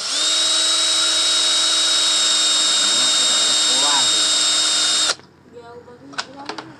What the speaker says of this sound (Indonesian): Saya pakai mata bor ukuran 4 mili. Bor aja ini.